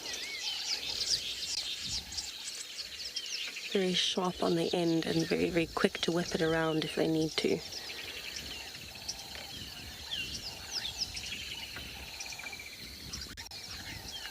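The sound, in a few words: birds calling in the morning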